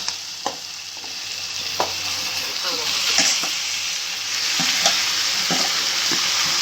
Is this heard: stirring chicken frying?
yes